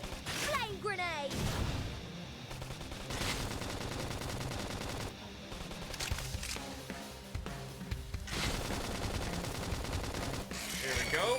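Gunfire and grenade blasts in the video game Xenoblade Chronicles X, loud bursts of rapid shots and booms in several waves over a busy game soundtrack.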